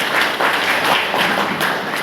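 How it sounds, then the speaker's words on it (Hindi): Enthusiastic applause from an audience welcoming a guest at a gathering in Jaitwara, sustained steady clapping filling the whole stretch at moderate loudness, no voices over it. "एक बार जोरदार तालियों के साथ आपका"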